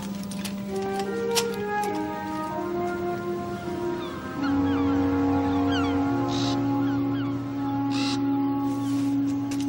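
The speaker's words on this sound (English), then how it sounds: "You again, Raven?" A raven caws a few times, harsh calls standing out over a sustained low musical score with long held tones in an animated sea-adventure scene.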